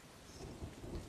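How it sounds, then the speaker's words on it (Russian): Steady rain hissing with low rumbles of thunder rolling underneath in the video game Deadlight, fairly quiet and continuous, with no voices. "На улице пошел дождь."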